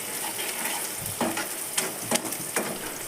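Onions, curry leaves and turmeric frying in a pan for mushroom curry: a soft, constant sizzle carries a few sharp stirring clicks and scrapes from a utensil, close and moderately loud.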